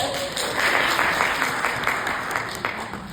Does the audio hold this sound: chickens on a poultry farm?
no